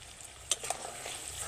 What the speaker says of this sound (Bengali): তেলে সমস্ত গুঁড়ো মশলা 1-2 সেকেন্ড মতো নেড়ে নেব।